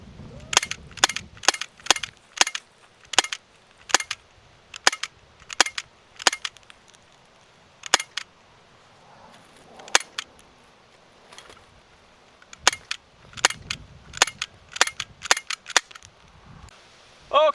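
BB and pellet pistol shots fired at a pumpkin being carved, each a sharp snapping crack heard close, in quick bursts and then spaced singly, with quiet pauses between.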